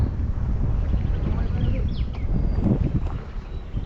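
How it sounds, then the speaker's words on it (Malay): Strong wind buffets the microphone with a constant low roar and rumble while fishing outdoors, steady throughout, with faint background sounds. "Angin kuat tu."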